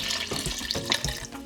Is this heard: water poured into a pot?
yes